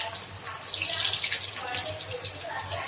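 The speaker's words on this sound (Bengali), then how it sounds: "আর আমি কিন্তু রিফাইন তেলেই ভাজতেছি।" Mug pitha, a crisp Bengali lentil pastry, frying over low heat in refined oil, with a steady fine sizzle and crackle that runs close and continuous.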